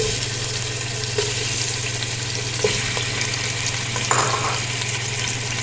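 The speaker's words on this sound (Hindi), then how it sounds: "इसको हम करेंगे फ्राई।" Chicken fries in oil in a pot for a corn soup, a steady, close, broadband sizzle with a few small pops and no one speaking.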